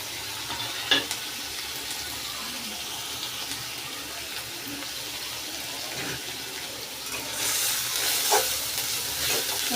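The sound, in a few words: stirring kharkol leaf paste with salt and turmeric in pan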